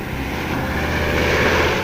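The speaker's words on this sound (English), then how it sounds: "it's no problem for the little hedge-hopping Army planes" A small Army L-4 liaison plane flies low, its propeller engine producing a loud, steady droning hum that swells slightly toward the end, with no speech.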